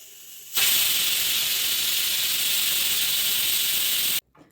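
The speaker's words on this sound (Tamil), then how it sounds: "நம்ம குக்கர் விசில் வந்துருச்சு" A loud, continuous steam hiss bursts out suddenly from a pressure cooker cooking mutton curry, holds steady for several seconds, then cuts off abruptly as the whistle releases.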